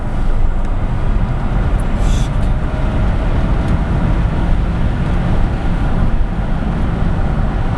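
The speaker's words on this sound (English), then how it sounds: "that's accelerating from 60 miles an hour as well, isn't it?" A 2013 Tesla Model S accelerating hard from 60 mph, heard from inside the cabin as a loud steady roar of road and wind noise with a faint high electric whine, with no talk.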